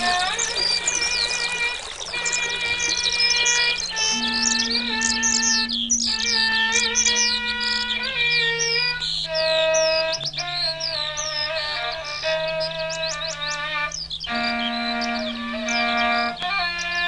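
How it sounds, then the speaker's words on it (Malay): A small bird chirps in bright, repeated phrases of high whistled notes, close and clear, over a sustained low musical tone that shifts pitch every couple of seconds. "Seekor burung kecil menanti induknya"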